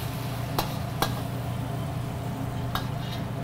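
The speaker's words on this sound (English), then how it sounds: "That sizzle." Lemongrass chicken sizzling on a hot plate at a modern Asian restaurant, a steady hiss of frying with a few sharp clinks of utensils over a low background hum.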